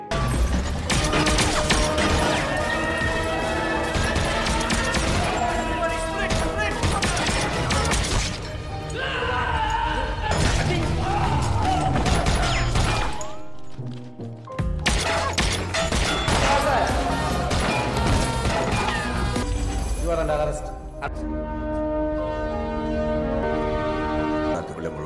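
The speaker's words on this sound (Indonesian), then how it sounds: "terjadi baku tembak di antara polisi korup versus polisi jujur dibantu sama mafia kejam" Gunfire crackles through a movie shootout between corrupt police and honest police backed by ruthless mafia, with dense bursts of shots and crashes over a loud score, briefly dropping out mid-scene before resuming.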